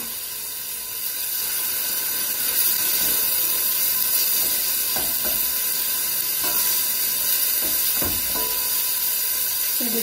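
Tomato paste sautéing in a pan for a chicken fricassée, a steady hiss and sizzle that grows louder after the first second, with a few soft stirring scrapes and no talking.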